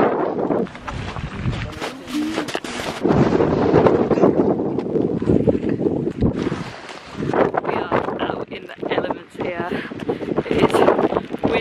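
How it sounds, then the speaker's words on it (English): Strong wind buffets the microphone on a rainy hike across a lava field near a recent volcanic eruption site in Iceland, with a loud, steady roar that gusts and dips throughout. "It's still very windy"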